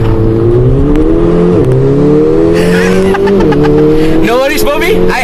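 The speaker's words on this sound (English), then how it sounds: "So that was a race start." A Mercedes-AMG A45 launch-control race start at full power: loud, continuous engine roar climbing steadily in pitch through the gears with brief dips at shifts, close and in-cabin, with people talking over it near the end.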